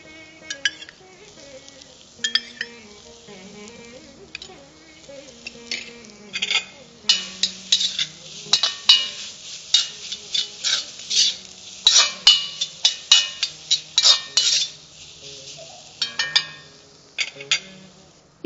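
Beetroot sizzling as it fries in coconut oil, stirred with a utensil that scrapes and clinks against the pan in repeated bursts, close up and fairly loud, with music playing underneath.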